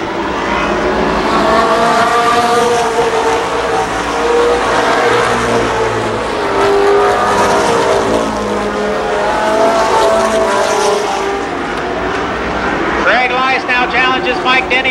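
Race cars roaring around Columbus Motor Speedway in a 1993 event, engines loud and continuous with shifting pitch as the field passes, under a track announcer's commentary throughout.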